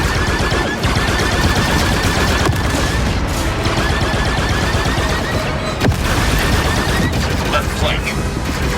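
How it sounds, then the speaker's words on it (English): Sustained turret gunfire in the Star Wars Outlaws video game, rapid bursts of shots with booms and impacts packed densely across the whole stretch, loud and continuous under game voices. "The turret is active."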